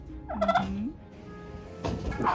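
Turkeys gobbling inside a greenhouse, two bursts of loud gobbling separated by a short quieter stretch, close by with no talking.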